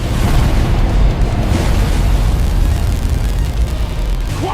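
An overloading core in an animated battle blows up in a loud, sustained, rumbling explosion that fills the whole stretch with dense roaring noise.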